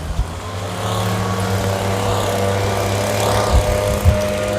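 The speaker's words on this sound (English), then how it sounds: "Neighbors are getting their home landscape maintenance, getting their bushes trimmed and everything" Landscapers trim a neighbor's bushes with power equipment, giving a steady, fairly loud engine drone with a constant hum. It holds throughout, with a couple of brief knocks near the end.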